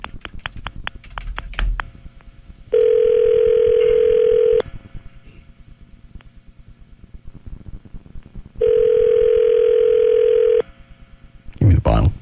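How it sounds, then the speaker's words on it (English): A steady telephone dial tone sounds for about two seconds, then returns later for another long stretch, with faint clicks and background chatter around it and a loud burst right at the end. "I'm dialing."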